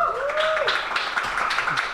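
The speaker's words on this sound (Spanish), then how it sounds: "Un fuerte aplauso para él." Audience applause for the drummer at a jazz trio concert, a dense wash of clapping over two seconds with a few voices and a whistle-like tone briefly rising above it.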